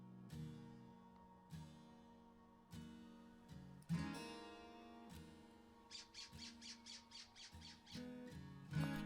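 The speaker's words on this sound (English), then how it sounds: "Finally getting some decent looks at these jays." A jay squawks repeatedly in winter woods, harsh raspy calls coming in loud bursts with short gaps, then a quicker run of choppy squawks midway through.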